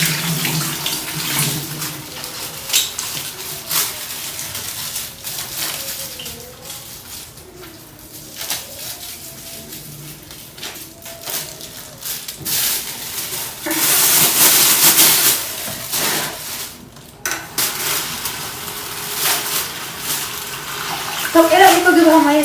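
Water runs steadily from a tap into a container, a hissing stream that swells louder toward the end, with someone talking intermittently.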